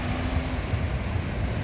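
Pacific Ocean surf washing onto a beach in Ilocos Sur, a steady broadband rush of waves mixed with wind buffeting the microphone, with no talking.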